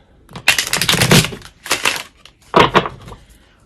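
Stiff new tarot cards being shuffled, three separate riffling bursts of crisp papery clatter, close and fairly loud with short pauses between.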